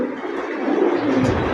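Pigeons cooing at a Bangladeshi pigeon market, a soft murmuring coo rising and falling over a steady crowded background hum, close by and continuous.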